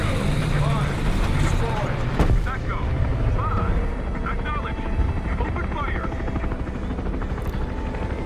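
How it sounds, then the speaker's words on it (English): A helicopter in the War Thunder video game gives a steady rotor-and-engine drone that runs loud and constant through the whole stretch, with speech over it. "I hear a helicopter."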